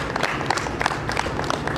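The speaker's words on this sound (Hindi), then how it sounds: "तालियां बजती है इनके लिए।" An audience at a Holi gathering claps in a short, fairly loud burst of scattered applause.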